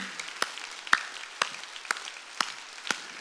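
Evenly spaced sharp claps ring out during a Korean church Sunday service sermon, about six single beats in a steady rhythm about half a second apart, clear and close over a quiet room.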